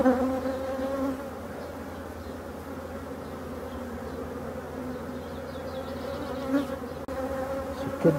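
Honey bees from an open queenless hive drone and buzz steadily at close range, a dense continuous hum with a few louder passes near the end and no talking.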